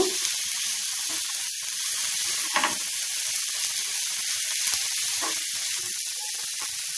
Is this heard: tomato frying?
yes